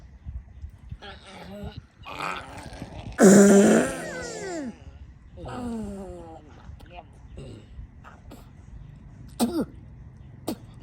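A comic fart sound, a squeaky, sputtering burst with rising tones, surrounded by throaty, cough-like noises in short bursts.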